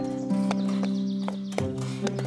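Hooves of the horse Falada clip-clop in a slow, even rhythm, a few crisp knocks over a sustained soft musical bed, close and moderately loud.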